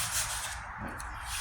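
A sanding block rubbing steadily across the rust-repaired tailgate of a 1998 Ford Ranger, giving a continuous close, gritty scraping hiss with no pauses.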